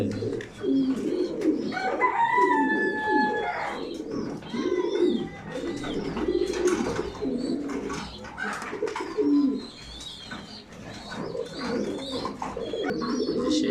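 Several pigeons coo in low, throaty rolling calls that overlap continuously, close by, with occasional faint chirps in the background.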